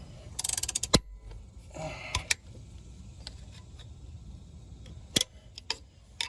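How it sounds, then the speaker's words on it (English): A ratchet clicks in short rapid bursts while turning over a Gen V LT engine, with scattered metallic taps and clunks in a quiet garage. "spin the motor over with my ratchet here while I'm working it off here"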